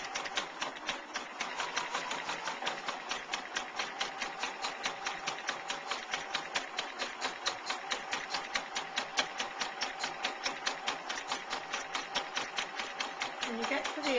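A sewing machine runs steadily as it stitches around a heart-shaped fabric needlecase, a quiet, fast, even chatter of needle strokes that continues throughout.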